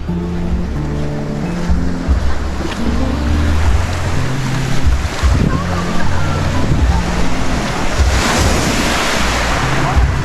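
Ocean surf rolling onto the beach at Tabok, Kiamba, Sarangani Province, a loud continuous wash with strong wind buffeting the microphone and faint talk underneath.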